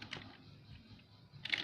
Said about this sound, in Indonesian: Terus saya main di keyboard ya